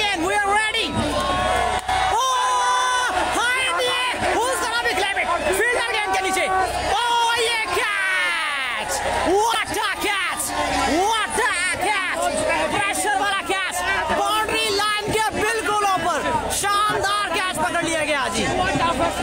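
Cricket spectators at a semifinal roar, whoop and clap as a match ends, a loud, continuous wall of crowd noise with shouting voices rising and falling throughout.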